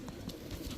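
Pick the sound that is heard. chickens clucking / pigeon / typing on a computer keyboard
pigeon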